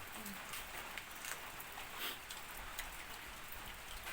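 Steady rain falls outdoors in an even, continuous hiss, with faint patters of drops, and no distinct voices over it.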